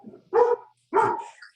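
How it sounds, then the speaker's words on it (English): Two separate dog barks, close and fairly loud, each a short harsh burst with a pause between, sounding in a home during an online meeting. "my dogs are barking"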